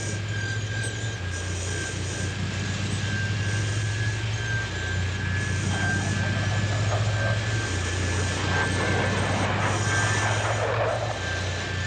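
A Blue Angels jet in flight, a loud, continuous engine roar with a steady high whine and low rumble that holds throughout, with no talk.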